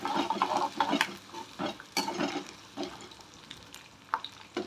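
Garlic and curry leaves frying in a pan, a soft crackling sizzle mixed with irregular scraping and stirring knocks, fairly faint and close.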